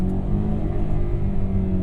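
A 2001 Honda S2000 AP1 engine revs hard, a loud sustained high-pitched wail heard from close by with no talking.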